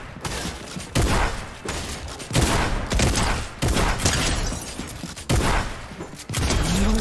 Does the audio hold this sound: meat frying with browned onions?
no